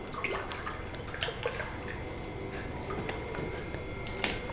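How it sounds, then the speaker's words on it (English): Water poured into a glass for a colour-mixing science experiment, a continuous splashy trickle with small ticking drips, close and moderately loud throughout. "in the glass, I'm going to fill the glass with water"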